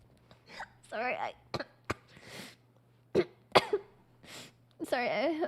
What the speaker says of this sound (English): No, I was just coughing.